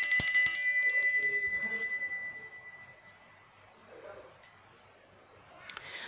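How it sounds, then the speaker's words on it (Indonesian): A bright bell rings out loudly at the start, its metallic tone ringing on and fading over a couple of seconds, followed by quiet rustling and a faint clink. "ditandai dengan tanda lonceng berbunyi"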